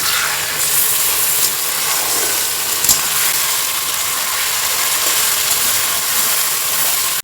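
Ginger, garlic and green chili paste with turmeric and salt fries in hot oil in a pan for a fish curry, giving a steady, close, unbroken sizzle throughout.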